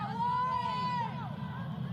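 Stadium crowd at a 2023 ACC women's soccer match between Louisville and Boston College, a steady hum of murmuring spectators with a whistle-like tone rising briefly, heard alone at moderate level.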